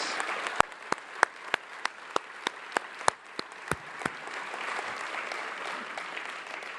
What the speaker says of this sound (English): Let's give a huge round of applause for Dr. William Heineman